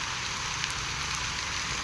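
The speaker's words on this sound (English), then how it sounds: "how long has this rain been going on for?" Steady rain falling in the video game Honkai Star Rail, a dense and even hiss of drops on surfaces that carries on throughout, with no talk.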